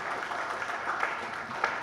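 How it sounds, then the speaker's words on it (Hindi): Audience applause at a Hindi poetry gathering (kavi sammelan), a steady wash of clapping from a seated crowd lasting about two seconds, moderately loud with no voice over it. "भगत सिंह वाले ताली तो बजा ही देना चाहिए थे।"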